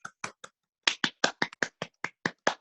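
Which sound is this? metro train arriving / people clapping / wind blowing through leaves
people clapping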